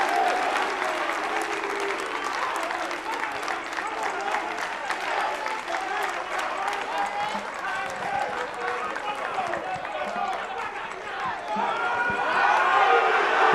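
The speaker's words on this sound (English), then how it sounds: "One more time, a round of applause" A large audience applauds contestants from Adisadel College, Presec and Opoku Ware at a televised science and maths quiz grand finale, sustained dense clapping with crowd noise that swells toward the end.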